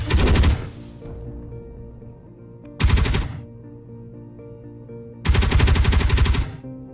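Three loud bursts of rapid automatic gunfire from a gun in Space Engineers, separated by a few seconds of low mechanical hum.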